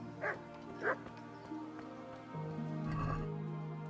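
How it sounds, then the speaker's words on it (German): Dogs bark in a medieval village in Kingdom Come: Deliverance, two short, moderately loud yips early on, then fainter barking later over a steady low background drone, with quiet talk faintly present. "Hier sind Hunde."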